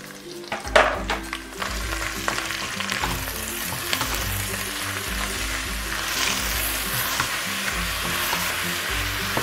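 Chunks of beef with plenty of onion sizzle and fry steadily in a pan, with a few sharp stirring scrapes near the start, then a continuous even crackle to the end.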